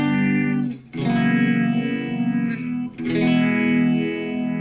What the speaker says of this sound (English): another one that was added during the late 60s was phaser, which makes the sound kind of swirly